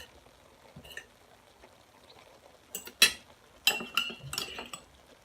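A metal spoon stirs rice and fried onions in a pot for coconut biryani, giving scattered light clinks and then a quick cluster of sharper scrapes and knocks against the pot, close by with no talking.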